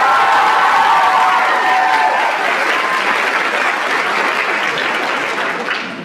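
An audience at a school district scholarship night bursts into sustained applause, a dense wash of clapping with some cheering that holds loud for several seconds before slowly tapering off.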